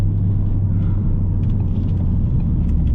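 A 2017 Ford Focus RS with an aftermarket exhaust drones steadily while driving, a loud low engine and road rumble filling the cabin without a break, and no talk over it.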